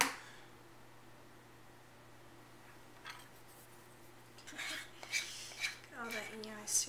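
A utensil scraping agave syrup out of a container, with faint scraping and light clinks after a quiet start, growing a little busier near the end, close and soft.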